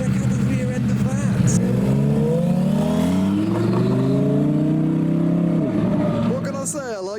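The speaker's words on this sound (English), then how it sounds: "We have two turbocharged Hurricanes arriving together." Two turbocharged Lamborghini Huracans roll in together at a UK modified car show, engines revving with rising and falling tones that hold steady before fading out, while a person talks over them.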